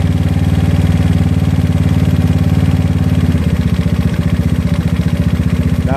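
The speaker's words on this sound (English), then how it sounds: "Different sound in the scooter." A GY6 scooter engine fitted with an OKO PWK 30mm carburetor runs steadily on its own, with a loud, even chugging idle and a slight shift in tone partway through.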